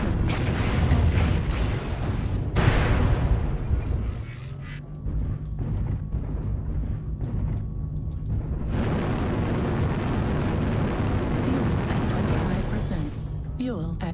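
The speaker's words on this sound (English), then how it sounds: "Artillery" Heavy artillery explosions in a video game boom out in loud, overlapping blasts, with big impacts near the start, about a third of the way in, and again past the midpoint, over a sustained rumble and a steady low hum.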